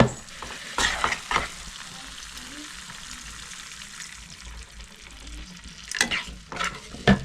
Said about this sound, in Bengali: এবার আমি সামান্য একটু জল দিয়ে দেবো